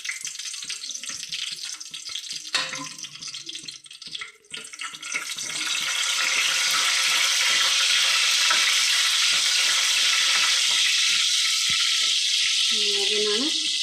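Dried red chillies hit hot oil in a pan: muffled clatter and stirring first, then a loud, steady close sizzle that holds for several seconds before a brief voice near the end.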